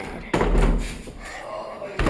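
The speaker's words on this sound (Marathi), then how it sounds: "आता हा दरवाजा परत लावून देतो" A house door in a home is pushed shut with a loud thud near the start, followed by room noise and another knock-like impact at the end.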